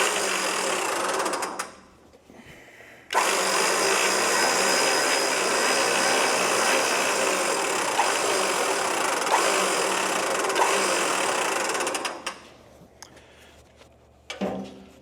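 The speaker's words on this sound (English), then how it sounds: "this winch is fast." A rebuilt old vehicle winch runs fast, first as a short burst, then as a loud, steady mechanical whir for about nine seconds before it cuts off, with no talking over it.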